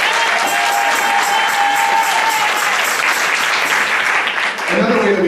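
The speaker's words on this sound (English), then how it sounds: "let's applaud for them so they can hear us" An audience at an indoor gathering applauds for childcare volunteers, a loud, sustained burst of clapping from a sizeable crowd that fades near the end as a voice returns.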